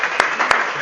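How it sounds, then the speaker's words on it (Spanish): Short burst of audience applause for solving a problem, with a couple of sharper individual claps standing out over a brief steady wash of hands. "un aplauso por haber solucionado este primer problema"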